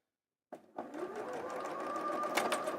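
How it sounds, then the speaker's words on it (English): Sewing machine acting up while sewing a quilt block: after a moment of silence it starts with a jolt, then runs in a steady, somewhat uneven hum with faint clicking, close and fairly quiet. "Does anyone else talk to their little sewing machine when she has a moment?"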